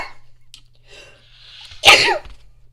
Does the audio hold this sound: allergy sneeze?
yes